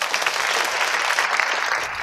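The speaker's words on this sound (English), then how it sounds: "please give a round of applause" Audience applause welcoming a speaker to the stage, a dense, steady wash of clapping from a crowd that holds at an even level for the full stretch without a break.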